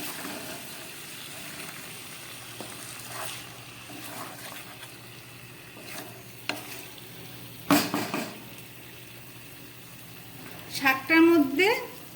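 Pui shak greens are tipped into a pot of fried vegetables, bringing soft sizzling, scattered utensil clinks and a close, busy rustling tumble near the end.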